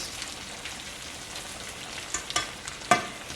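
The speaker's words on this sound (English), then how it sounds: "And then we put our prawn in there and just let it cook down a little bit in that on a slow heat." Prawns in a garlic and ginger sauce simmer over low heat in a pan, giving a soft continuous sizzle with scattered pops and crackles toward the end.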